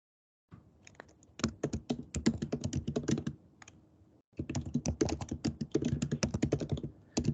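Fingers type on a computer keyboard in two quick bursts of brisk, uneven keystrokes separated by a short pause, close and clear with no voices.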